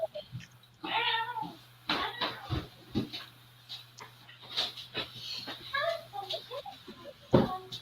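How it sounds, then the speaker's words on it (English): A cat meows several times, short whiny calls scattered between snuffles and soft background noise, fairly close but not loud. "I hear meowing."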